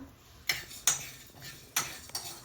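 Fennel, coriander and pepper seeds dry-roasting in a pan, heard as a few sharp metallic clinks and scrapes of a utensil against the pan over a quiet background.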